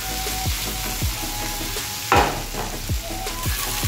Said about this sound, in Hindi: इसलिए मैं इसमें थोड़ा सा घी ऐड की हूँ। इसको मैं टॉस कर रही हूँ।